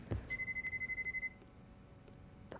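A telephone rings in the video game Lost Judgment, a rapid warbling electronic trill of about a dozen pulses in one burst, fairly close and clear over a low room hum, followed by quiet.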